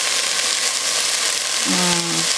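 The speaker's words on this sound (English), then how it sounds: "So I'm going to saute the leeks and onions first" Leeks and onions sautéing in a pan, a loud, steady, close frying hiss throughout, with a brief tonal hum near the end and no voices over it.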